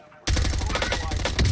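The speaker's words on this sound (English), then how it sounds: "I've been shot in the fucking back." Rapid automatic gunfire in a competitive shooter video game, loud and continuous for over a second after a short quiet start.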